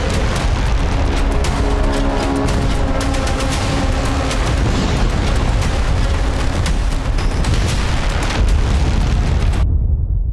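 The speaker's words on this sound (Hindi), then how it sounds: "यहां मौजूद मोसाद के मुख्यालय पर 4 मिसाइलें दागी।" Missile strikes reported on the Mossad headquarters near Tel Aviv produce loud, dense rumbling explosions and bursts that continue steadily for about ten seconds and then cut off abruptly near the end.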